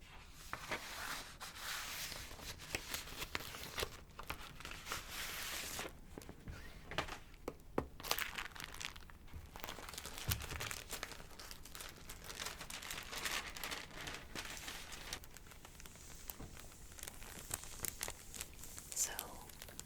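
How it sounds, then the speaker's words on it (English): A plastic album sleeve with thin paper inside is handled and crinkled close up, giving continuous soft crackling and rustling with brief tearing-like crinkles, in a quiet whispery setting. "this sleeve is more of a plasticky sound than the paper sound, but it has a little thin paper within it"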